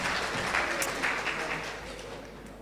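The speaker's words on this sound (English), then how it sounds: "Once again, give your best applause for Safira." An audience at a university law faculty's international student colloquium applauds after a performance, giving a dense, steady wash of clapping that holds at moderate loudness and fades slightly toward the end.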